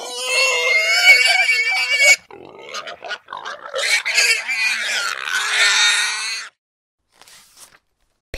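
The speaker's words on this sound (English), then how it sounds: "Piglet squealing." A piglet squeals in loud, shrill bursts, a long squeal followed by choppier cries and another sustained shriek, close and alone, then quiet.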